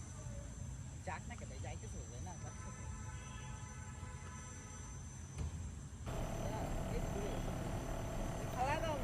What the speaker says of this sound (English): drone completed his flight just above the ground